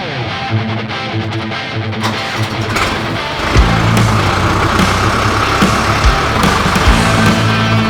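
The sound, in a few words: tractor engine running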